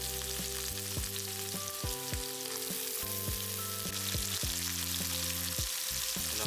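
Onions sizzle and crackle steadily in hot oil, with repeated sharp clinks of a utensil stirring the pan; no one speaks.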